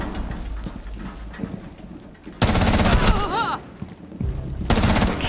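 FAMAS rifle fire from Rainbow Six Siege comes in two loud, rapid automatic bursts separated by quieter game noise, with a voice faintly audible underneath.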